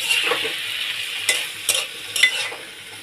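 Small chapila fish frying in a pan with cumin and salt, a close sizzle with a few sharp spatter bursts and scraping stirs, no talk.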